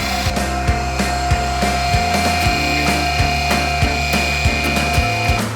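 A textured acrylic wall finish is machine-mixed in a bucket before trowel application, giving a steady, loud mechanical churn with a sustained whine and regular thumping pulses about twice a second, with no voices.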